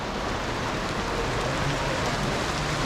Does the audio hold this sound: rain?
yes